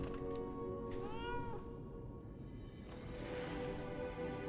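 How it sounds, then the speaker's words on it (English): A cat in the video game Lies of P gives a couple of rising, drawn-out meows, close and clear over a soft ambient game background. "Hello, cat."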